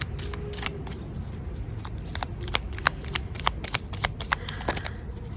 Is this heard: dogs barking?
no